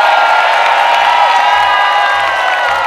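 A studio audience at a televised music show cheers and shouts continuously, a loud dense wash of voices with no pauses.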